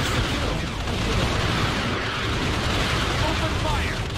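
Weapons fire and explosions in Star Wars: Empire at War, a dense continuous roar of blasts and booms from a large battle, loud and unbroken, with a voice talking over it.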